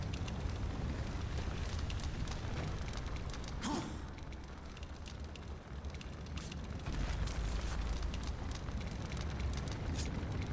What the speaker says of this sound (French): si je mets une bombe collée à elle, elle explose